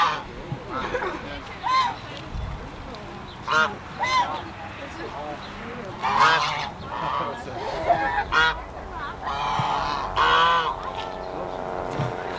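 Geese and ducks honk and quack repeatedly in bursts, close and loud, with people chatting in the background.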